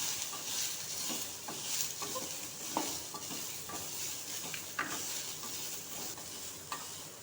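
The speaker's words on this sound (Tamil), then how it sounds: "வெங்காயம் நல்லா சுருள வதங்கணும்." Onions sauté in sesame oil with mustard seeds, fenugreek and curry leaves for puli kulambu, giving a steady close sizzle broken by repeated scraping stirs of a utensil against the pan.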